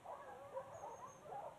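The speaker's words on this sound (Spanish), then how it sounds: "Los perros le han cobrado el jabalí." Hunting dogs at a wild boar hunt in Spain give faint, distant whines and yelps in a quiet outdoor setting.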